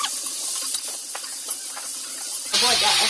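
Meat sizzles in hot oil in a pan, a steady close hiss that turns sharply louder and harsher near the end as more hits the oil.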